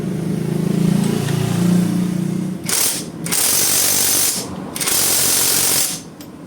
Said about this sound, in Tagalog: Subukan natin kung matanggal to ng impact.